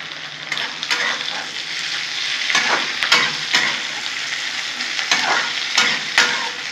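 Bitter gourd sprinkled with sesame seeds is stirred in a frying pan, a loud close sizzle with repeated scraping spatula strokes and brief clacks against the pan, no speech.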